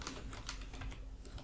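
Quiet, rapid keystrokes on a computer keyboard, a quick run of light clicks over a little more than a second, with no one speaking.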